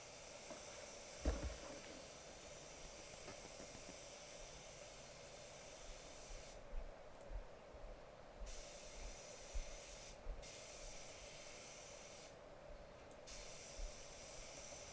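A spray gun hisses faintly while laying a coat of paint on a Jaguar XKR, the soft spray coming in repeated bursts separated by short pauses in a quiet booth.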